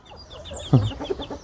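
Young rooster chicks of the Peruvidai breed cluck in a few short, close bursts, quick chirpy calls with one sharper squawk, brief and fairly soft.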